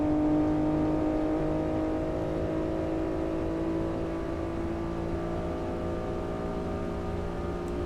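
Steady engine drone from a Honda NSX in the Assetto Corsa racing game on the Imola circuit, holding a smooth sustained pitch that dips slightly, with no talking.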